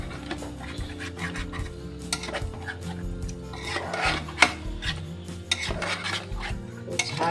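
A spoon scrapes and stirs through a yogurt mixture with chopped mint and coriander in a bowl, giving a continuous close clatter with light clinks.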